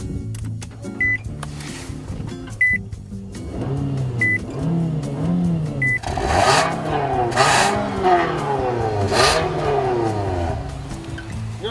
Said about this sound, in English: Nathan, it has dual exhaust. Dual exhaust, and it sounds, well, actually it sounds pretty good.